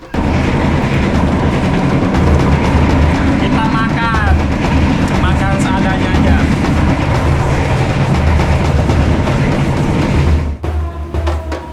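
A long-distance passenger train in Indonesia runs on rails with a steady low rumble and broadband rattle, loud and continuous, with brief squealing tones midway and a sudden drop in level near the end.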